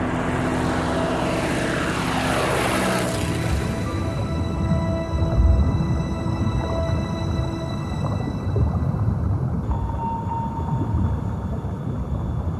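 An early propeller airplane drones past, its engine loud and steady with a falling pitch as it passes, then fading into a continuous rumble.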